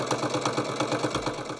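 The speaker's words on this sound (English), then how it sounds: "make sure that it's sewing along the edge of my cover strip" A sewing machine runs steadily while stitching rows of a T-shirt quilt along a cover strip, a continuous close mechanical whir with a fast repeating needle rhythm and no talk.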